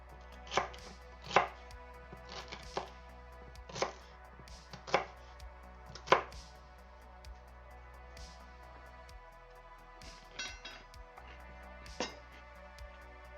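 A knife chops celery on a cutting board in a quiet kitchen, crisp separate cuts in irregular bursts, some strokes sharper than others, with short pauses and no talking.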